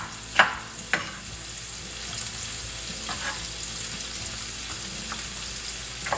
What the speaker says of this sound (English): Whenever you saute onions and garlic, I'm going to put some garlic in here too.